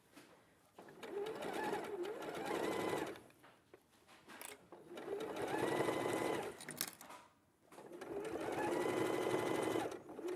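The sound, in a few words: sewing machine stitching quilt binding with quarter-inch seam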